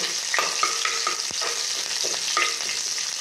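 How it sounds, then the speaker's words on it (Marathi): Green chilies fry in hot oil with cumin seeds while being stirred, giving a steady close sizzle broken by the scrape and clink of a spoon in the pan. "यात मी आता थोडीशा मिरच्या टाकते। थोडं असं हलवून घेते"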